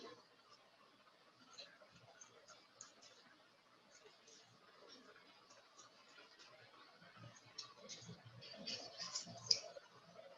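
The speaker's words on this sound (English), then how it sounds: "So we'll cut the wings first." Scissors snip through paper while cutting out the wings of an origami paper duck, a series of soft, close clicks and snips that grows busier toward the end, with faint background sounds between the cuts.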